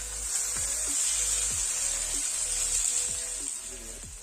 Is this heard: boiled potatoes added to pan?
yes